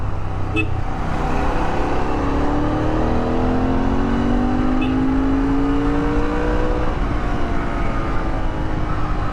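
A Royal Enfield GT 650 motorcycle engine revs up steadily, its pitch rising as it accelerates, loud and close with constant road noise.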